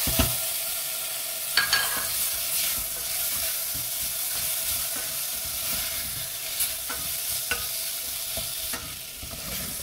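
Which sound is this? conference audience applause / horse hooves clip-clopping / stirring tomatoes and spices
stirring tomatoes and spices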